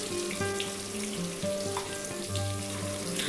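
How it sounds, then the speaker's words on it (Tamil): Garlic and curry leaves sauté in a pan for an onion kara kulambu, a close, steady sizzle with bubbling crackle and occasional stirring scrapes, with no talking over it. "கூடவே கொஞ்சமாக கருவேப்பிலை சேர்த்துட்டு நம்ம நல்லாவே பொன்னிறம் ஆகிற வரைக்கும் வதக்கிக்கலாம்."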